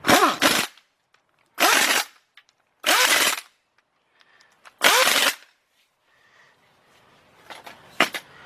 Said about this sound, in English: let's get our 4 bolts tightened up